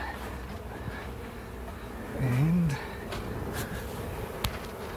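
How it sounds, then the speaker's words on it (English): Honeybees fan at the entrance of a relocated hive, a soft continuous buzzing hum outdoors with a brief louder drone as a bee passes close by. "we now have fanning at the entrance and bees heading in"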